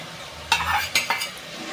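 Green chillies frying in a pan after ginger and garlic, with a steady sizzle and three quick stirring scrapes in a row, close up.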